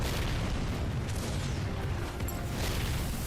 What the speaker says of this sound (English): I just shoot the missiles in here and then move along.